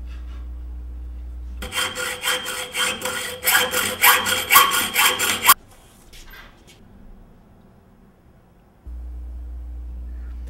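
A hand saw cuts through a 1/4-inch threaded steel rod to make short studs for a small wind turbine, a close, rasping back-and-forth stroke repeated about a dozen times at a steady rhythm, then a few faint taps before a low hum returns.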